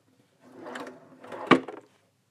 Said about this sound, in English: And we have a drawer.